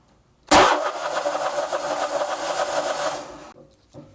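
A Vanguard 35 HP road-cutter engine with a starting fault cranks loudly for about three seconds without catching, then cuts off, with a brief short burst just before the end.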